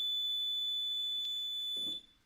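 A Kentec fire alarm control panel buzzer gives a steady high-pitched electronic tone that holds for about two seconds and then cuts off, with a faint click near the end and no talking.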